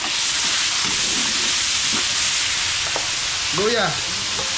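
Garlic and onion sauté in a hot pan with a constant loud sizzle and hiss, while a voice speaks briefly near the end.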